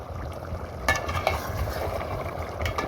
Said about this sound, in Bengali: এখন ঢাকনা সরিয়ে আবার একটু নাড়াচাড়া দিব